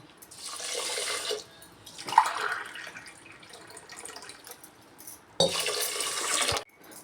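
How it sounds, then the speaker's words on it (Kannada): Water pours onto rice in a pot in three separate bursts, each a steady splashing stream lasting about a second, with quiet pauses between them. "ಒಂದು ಗ್ಲಾಸ್ಗೆ ಎರಡು ಗ್ಲಾಸ್ ಆಗುವಷ್ಟು ನೀರು ಸೇರಿಸೋಣ"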